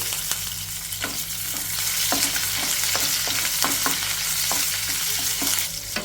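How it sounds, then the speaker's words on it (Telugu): Small pieces of green chilli fry in hot oil in a pan, a constant bright sizzle with brief clicks of stirring against the metal, close up and with no voices. "ఇప్పుడు పచ్చిమిర్చి ముక్కలు లైట్గా ఫ్రై అయిన తర్వాత"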